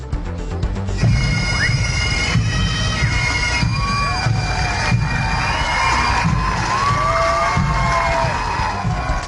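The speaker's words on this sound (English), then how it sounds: "a roaring crowd greeting police, military members, and first responders before a New Jersey high school football game" A roaring crowd at a New Jersey high school football game cheers police, military members and first responders, a dense, steady wall of shouting and cheering with scattered whistles and yells throughout.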